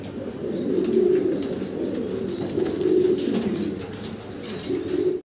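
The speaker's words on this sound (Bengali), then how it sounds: "বড় কবুতর দেখাইছি" Pigeons coo steadily at a pigeon farm raising large breeds, with overlapping low throaty calls repeating throughout, fairly close and loud, with no talking.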